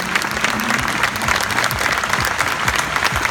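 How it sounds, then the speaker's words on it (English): An audience at a high school sports awards event breaks into steady, dense applause, loud and close, with scattered claps filling the room and no clear speech. "honor Kayne with a round of applause for a job well done"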